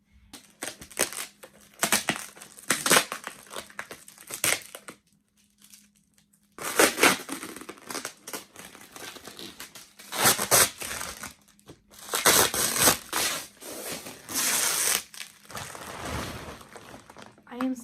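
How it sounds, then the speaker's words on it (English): A wrapped Christmas gift, a big cushion, is being unwrapped: loud bursts of crinkling, crumpling and tearing paper come in repeated waves with short pauses, close up, with some speech mixed in. "I am still unwrapping this."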